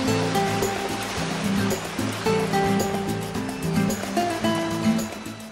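Ocean waves washing onto a beach in Sumbawa, a continuous loud rushing surf with rolling swells, with some layered background music.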